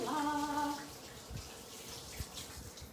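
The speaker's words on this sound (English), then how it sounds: "I just scratched my ear, so I'm gonna wash my hand" Tap water runs briefly as a hand is washed at a sink, a close hissing stream after a short voice at the start, then fading to soft splashes and drips.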